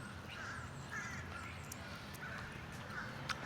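Crows outdoors near a grill caw several times at moderate distance, short harsh calls spaced a second or so apart over a steady background hum.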